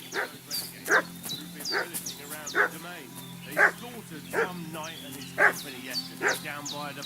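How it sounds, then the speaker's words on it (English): A dog in the video game Kingdom Come 2 barks and yelps again and again in short, evenly spaced bursts, fussing at mid-distance over a steady low ambient hum. "What's that dog making such a fuss about?"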